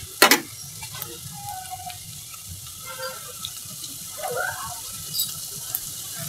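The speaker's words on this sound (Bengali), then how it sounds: "হালকা ভাজা হয়ে গেছে, এই পর্যায়ে আমি আদা রসুন জিরা বাটা পেঁয়াজ বাটা দিয়ে দিলাম।" Bird meat frying lightly in a pan as ginger, garlic, cumin and onion paste go in, with a soft steady sizzle, an early clatter and scattered small stirring and kitchen clinks.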